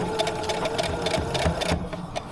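Sewing machine stitching the seams of a reusable fabric shopping bag, a steady close rapid needle chatter with a whirring motor that runs continuously, then eases off near the end.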